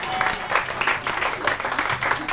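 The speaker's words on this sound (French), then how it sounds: "on peut l'applaudir bien fort," Brief burst of clapping from a party audience, fairly close and moderately loud, with individual claps audible in an uneven rhythm and faint voices underneath.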